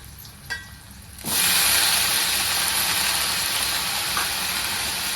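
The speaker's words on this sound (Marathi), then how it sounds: "लसूण आणि हिरवी मिरची छान अशी लाल झालेली आहे आपण आता ही कांद्याची पात टाकून घेऊया" Spring onion greens drop into hot oil with garlic and green chilli, setting off a sudden loud, sustained sizzle after a quieter moment of light frying, close up with no voices.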